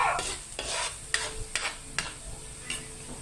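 Ingredients sauté in a hot pan for chicken pastil, a soft sizzle under repeated close scraping stirs of a utensil against the pan, with no talk.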